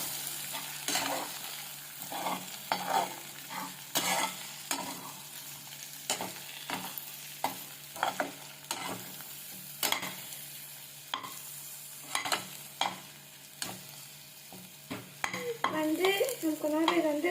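Egg frying in a pan sizzles steadily while a spatula stirs and scrapes in repeated close knocks, roughly once a second, with a brief higher squeaky scrape near the end.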